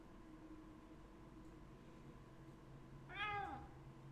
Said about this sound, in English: Cat, not now.